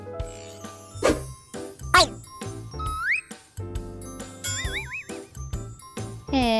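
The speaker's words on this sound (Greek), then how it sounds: "Ένα πρωί ο ταχυδρόμος χτύπησε το κουδούνι του κύριου Πολυλογά" A chiming doorbell sound effect in a Greek read-aloud children's story, ringing in several bright tinkling ding-dong bursts mixed with playful rising whistle-like tones and short musical hits.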